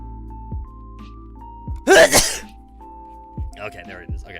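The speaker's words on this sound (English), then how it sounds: "I feel a sneeze coming up, so like I'm trying to hold it back." A single loud, sharp sneeze bursts out near the middle of a quiet indoor stream, close to the microphone, with a few soft knocks and brief vocal sounds around it.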